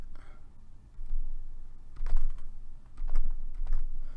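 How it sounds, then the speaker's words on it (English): A computer mouse is double-clicked quickly, with crisp close clicks arriving in short bursts over a low background hum. "double tap this really fast so that my finger comes off the mouse before it measures"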